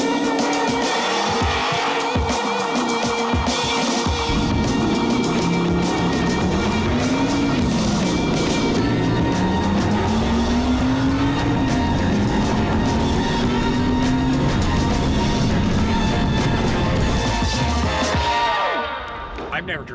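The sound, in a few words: Audi four-cylinder car launching with launch control in drag race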